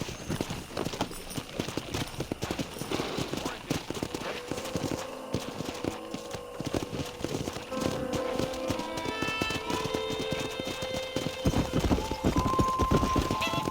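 Horse hooves clip-clop steadily and close by in the video game Red Dead Redemption, a continuous rhythmic trotting with faint voices in the background.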